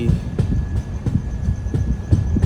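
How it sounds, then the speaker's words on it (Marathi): Steady rumbling train noise heard from inside a moving passenger train, with rhythmic clickety-clack thumps of the wheels over rail joints repeating under a constant hum. "ट्रेनमधल्या बाहेरचा आवाज चांगला आहे त्यामध्ये घाड घूड घाड घूड"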